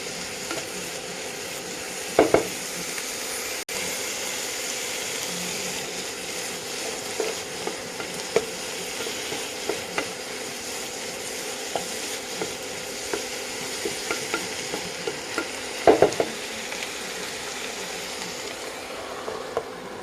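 Potatoes cooking with salt in a covered pan give a steady low sizzle and bubbling hiss that runs continuously for twenty seconds, with a few faint clinks and knocks scattered through it and no talking.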